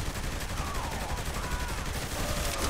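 Machine gun fire rattles in Saints Row The Third as a continuous dense burst of rapid shots over constant game noise, fairly loud throughout.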